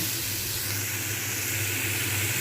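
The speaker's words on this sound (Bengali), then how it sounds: "আলুগুলো ভালো করে এবারে ভালোভাবে ভাজব" Potatoes fry with tomato in a pan, sending out a dense, steady, close-up sizzling hiss with no pauses.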